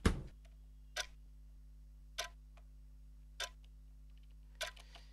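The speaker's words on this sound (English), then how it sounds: "They begin tapping their foot in sync with the rhythm of the ticking clock." A ticking clock sound effect gives five sharp, evenly spaced ticks about a second apart, loud and dry over a steady low hum.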